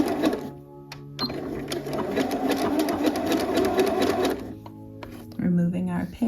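A sewing machine runs in bursts while zigzag stitching a seam on a Butterick 6848 garment, with a rattling mechanical drone, and a voice talks over it near the end.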